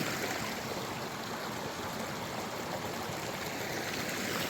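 Steady rushing flow of a mountain stream on the Continental Divide Trail, close and constant with no pauses, no voices.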